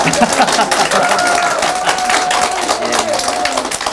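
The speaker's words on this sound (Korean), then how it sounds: "여러분 박수 한번 주세요" Party members at a meet-up with the party leader applaud together, sustained dense clapping from an indoor crowd throughout, with a voice speaking over it.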